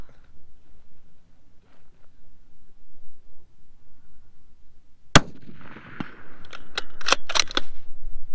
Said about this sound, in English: That's how we ring some steel.